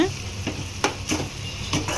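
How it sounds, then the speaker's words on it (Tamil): A pan of food sizzles steadily while a utensil scrapes and stirs it in a few distinct strokes, close by. "சேர்த்து நல்லா வதக்கி விட்டுக்கணும் சிம்மில் வச்சு வதக்கிக்கிங்க"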